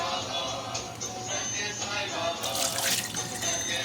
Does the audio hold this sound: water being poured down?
yes